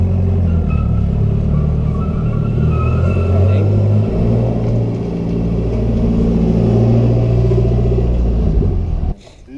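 A Nissan S13 with a brand-new clutch revs and pulls while driving, its engine a loud, sustained low rumble that rises and holds before cutting off abruptly near the end.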